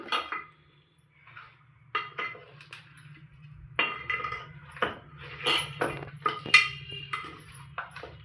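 Goat head meat is tossed with masala in a metal bowl, giving repeated clinks and scrapes of metal on metal in irregular bursts, fairly close.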